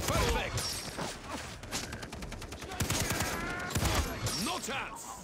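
Rapid bursts of gunfire and scattered shots in the video game Far Cry 3, loud and near, with a co-op firefight rattling on throughout and voices partly underneath.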